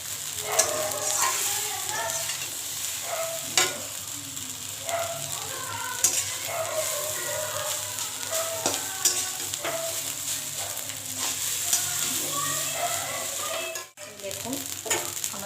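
Chowmein noodles are stir-fried in a pan, a steady sizzle broken by repeated scraping and tossing strokes, with a person talking over it throughout.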